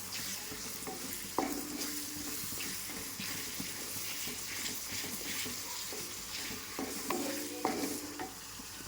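Boti (tripe) curry fries in a pan with spices such as cardamom and peppercorns, giving a steady, close sizzle broken by occasional scraping stirs and light clinks.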